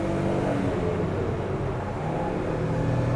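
A 1999 Suzuki Turbo Carry kei truck pulls uphill in third gear, its small engine droning steadily and loudly from inside the cab, with constant road and wind roar and no letup in the sound.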